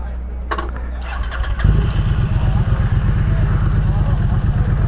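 A 2024 Triumph Speed Twin 900 motorcycle cranks with a brief starter whir, then catches and settles into a loud, close, thumpy idle that continues steadily.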